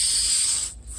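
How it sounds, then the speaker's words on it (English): Spray paint hissing steadily onto a face lifecast, a continuous close airy spray that thins and briefly drops out near the end before resuming. "Keep spraying where I'm going"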